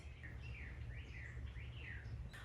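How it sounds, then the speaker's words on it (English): Birds chirp in repeated rising and falling whistled calls over a low, constant background rumble. "the birds chirping in the background"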